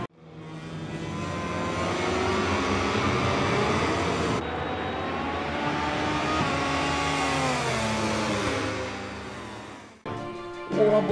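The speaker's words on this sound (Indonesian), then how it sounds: "benar ini adalah motor balap Gipi." A MotoGP racing motorcycle engine revving loudly and continuously, its pitch rising and falling through high-revving sweeps before cutting off abruptly.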